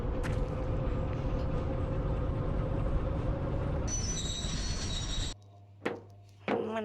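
A steady, loud rumble of a video game train rolling along with wheel clatter, then a high whine, before it cuts to quiet with a few sharp clicks.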